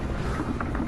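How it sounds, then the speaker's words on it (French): Strong wind buffets the microphone with a steady low roar and rushing noise, gusting slightly throughout, with no voices. "Le vent souffle très fort."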